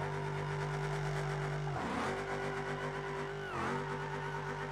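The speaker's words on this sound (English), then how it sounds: "Come on, this motor's got to blow soon, man." A brand-new purple car's engine in BeamNG.drive is held at high revs, with a steady droning harmonic whine that briefly dips and recovers twice. It is loud and continuous, with no talk over it.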